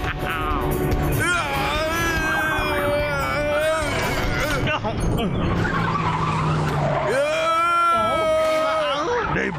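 A big cartoon vehicle brakes hard, its tires letting out long wavering squeals and skidding screeches in two bursts, loud and close, with animated voices shouting over the commotion.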